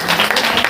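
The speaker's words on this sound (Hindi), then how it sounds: "बोले यीशु मसीह ताली बजा करके" A church congregation claps together at a prayer meeting, a brief, loud burst of dense hand claps close by.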